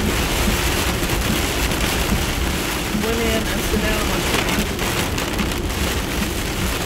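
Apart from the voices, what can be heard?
pouring rain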